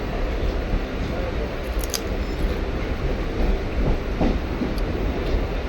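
A moving passenger train, heard from inside a carriage on the way to a holiday trip, gives a steady low rumble with faint clatter that runs the whole way through, while voices murmur faintly underneath.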